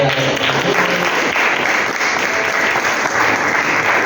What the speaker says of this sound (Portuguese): Alguém pode glorificar o Senhor com palmas?